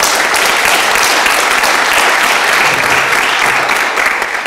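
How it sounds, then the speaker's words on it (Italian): Sustained applause from an audience at a talk on artificial intelligence in medicine, a dense, steady wash of many hands clapping at full strength throughout, easing only slightly at the end. "Io farei un applauso intanto per tutti."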